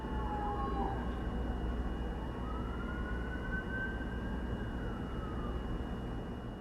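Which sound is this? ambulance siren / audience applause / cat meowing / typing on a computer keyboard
ambulance siren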